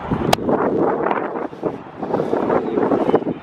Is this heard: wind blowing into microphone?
yes